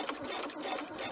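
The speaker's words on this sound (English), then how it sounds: "You can even hand sew this together, but I prefer the machine." A sewing machine runs steadily, stitching PUL fabric with a rapid, even mechanical chatter, close and moderately quiet, with no voices.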